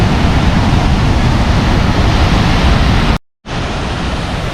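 Steady, loud broadband roar of a waterfall close by along a mountain parkway, continuous and unbroken except for one brief drop-out near the end.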